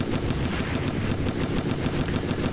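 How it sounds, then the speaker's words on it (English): Rapid automatic assault rifle fire in the toy-soldier war game Attack On Toys rattles continuously and loudly throughout, shot after shot in a fast, even rhythm. "The assault rifle doesn't do a lot."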